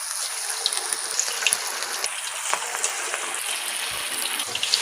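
Small pieces of mushroom batter deep-frying in hot oil, a steady close crackling sizzle with fine bubbling that holds evenly throughout.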